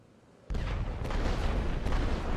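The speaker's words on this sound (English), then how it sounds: "Here comes more artillery" Artillery barrage in the World War I strategy game The Great War: Western Front. A sudden heavy boom opens into continuous deep rumbling, with a couple of sharper blasts landing on top as the shelling rolls on.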